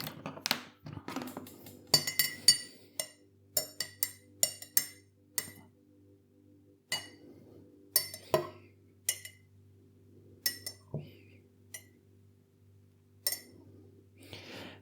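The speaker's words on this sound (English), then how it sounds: "Let's give them a stir." Spoons stirring cups of Yorkshire and Tetley tea give a series of light metallic clinks and taps, some in quick clusters and some spaced out, close by and fairly clear over a low steady hum.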